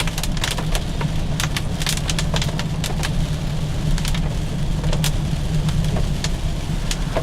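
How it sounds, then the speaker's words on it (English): A BMW 428i's small four-cylinder engine hums steadily while driving, with road noise and rain-like patter over a constant low rumble and no talk. "Good amount of sound for a little 4-cylinder."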